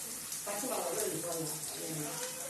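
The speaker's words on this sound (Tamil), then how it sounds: "இப்போ வந்து பாத்தீங்கன்னா இந்த வெங்காயம் வந்து நல்லா வதங்கணும்." Onions softening in a pan for Tamil fish curry, a steady close hiss of frying with a voice talking over it throughout.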